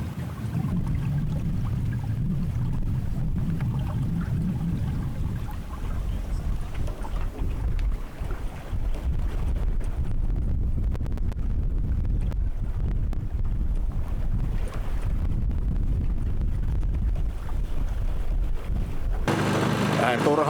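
Wind rushing over a sailboat on a Finnish lake, sailing with a beam to broad-reach breeze, a steady close low roar and buffeting across the whole stretch, with no pauses.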